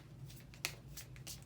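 Tarot cards are shuffled nearby, giving soft riffling bursts and a sharp slap or two at a loose, uneven rhythm, quiet and heard alone.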